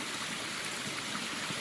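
Cold Appalachian Trail mountain stream water trickling and burbling close by in a soft, steady wash with no talk over it.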